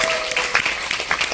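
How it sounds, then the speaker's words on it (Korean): Short burst of audience applause at the opening of a Korean talk event with a director, moderately loud and brief, with clap peaks standing out over a wash of crowd noise. "우리 시작의 의미로 큰 박수로 한번 시작할 수 있도록"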